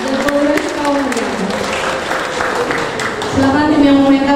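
A church congregation at a year-end service applauds the Sunday school and youth performers, with steady, moderately loud clapping mixed with voices and some tonal background sound, swelling slightly near the end.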